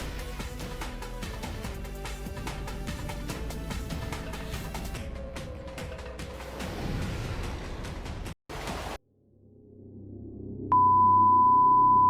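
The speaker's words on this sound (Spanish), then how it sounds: "La alarma emitida representa una emergencia a nivel global." Emergency alert system attention tone: after a loud music passage cuts to near silence, a steady electronic beep at one pitch starts near the end and holds loud and unbroken.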